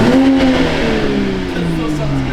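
A Toyota A91 Supra fitted with a VRSF downpipe revs loudly up close, its engine note climbing and then settling into a lower, steady drone over about two seconds.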